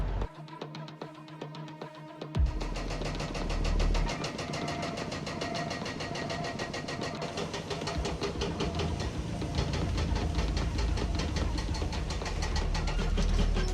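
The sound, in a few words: large powerful excavator engine running on construction site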